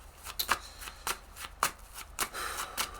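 Tarot cards shuffled by hand in a quiet room, a soft, close riffling with a run of brisk flicks and a short cascade at the end.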